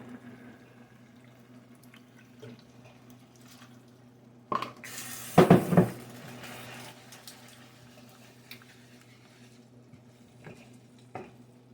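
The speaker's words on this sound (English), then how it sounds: "I'm going to add another half a cup of water, so a cup and a half of water." Water is poured into a pan to make gravy for German potato salad, a short splashing pour with a gurgle partway through, amid a quiet kitchen background with a low hum.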